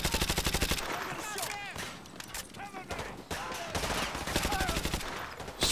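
Rapid automatic gunfire and scattered shots from the Modern Warfare 2 Remastered campaign, loud and near, bursting in dense rhythmic volleys over continuous battle noise across the whole stretch.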